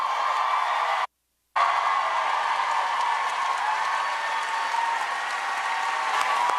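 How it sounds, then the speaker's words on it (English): A large, lively audience applauds and cheers steadily for Hillary Rodham Clinton's entrance at a book event, a dense continuous roar of clapping broken by one brief cut near the start. "A pretty lively crowd."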